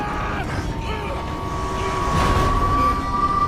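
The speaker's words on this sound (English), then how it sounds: "And of course there's a train coming." A train in the video game Red Dead Redemption 2 rumbles past close by, with a thin, steady metallic squeal riding over the heavy rolling roar, which swells louder toward the end.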